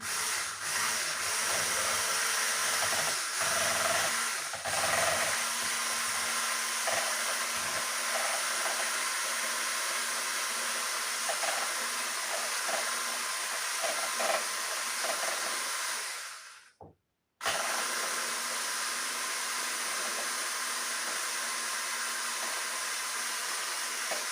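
An electric hand mixer beating batter for a red cake, a steady loud whirring hiss that runs continuously, briefly stops, then resumes at the same level.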